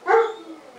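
A single close, loud dog bark with a harmonic, slightly whining tone that fades into a brief tail, heard alone outdoors during an autumn harvest in a garden.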